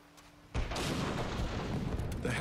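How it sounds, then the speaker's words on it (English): Explosions and artillery fire in the war video game Spec Ops: The Line, a sudden loud boom after a quiet start, then a sustained rumbling roar of blasts and gunfire. "Explosions?"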